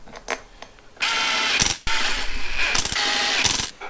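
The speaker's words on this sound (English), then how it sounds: "now we put in the original bolts" A ratchet tightening the original bolts on a later Rover differential cover, close and loud, with rapid clicking pawl strokes in several long bursts separated by short pauses.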